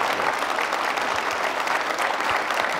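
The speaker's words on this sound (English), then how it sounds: "Let's give the Deputy Secretary a round of applause." A lecture hall audience applauds steadily after a talk, with many hands clapping in a dense, even roar that stays loud throughout and has no gaps.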